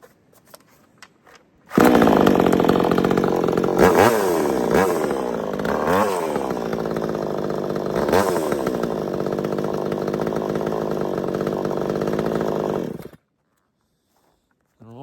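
A Vevor 20-inch 58cc gas chainsaw fires on a hot start and runs loud and close for about eleven seconds, idling with several sharp throttle revs before it cuts off abruptly.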